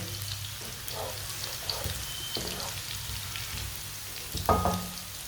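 Onion and garlic fry in very hot oil in a pan, giving a steady close sizzle with scattered pops and a louder burst near the end, no voice over it.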